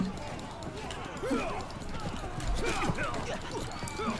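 A horse gallops in the video game Blood of Steel, rapid hoof clip-clops mixed with battle noise while someone talks excitedly over it.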